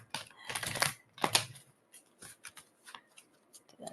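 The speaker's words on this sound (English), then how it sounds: "I'm going to give it a shuffle, although they are harder to shuffle when you have a bigger deck." Two quick bursts of shuffling a large deck of oracle cards, a riffle-like rustle followed by softer scattered taps and brushing as the cards settle, close and fairly quiet.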